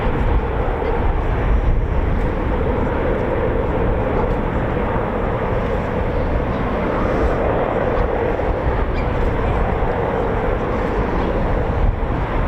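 A Spitfire's piston engine droning during an airshow flypast, a loud sustained roar that stays steady and close for the whole stretch.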